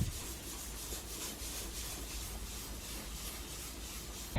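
A small applicator pad from a Meguiar's headlight restore kit rubbing over a car headlight lens, a soft steady scrubbing hiss in quick back-and-forth strokes, close and fairly quiet, ending with a brief bump.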